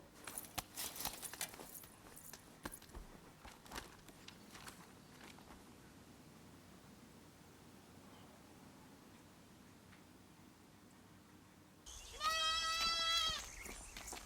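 A lamb bleats in a short burst of several wavering, high cries near the end, loud and close, after a long stretch of quiet, low background hum with a few soft knocks at the start.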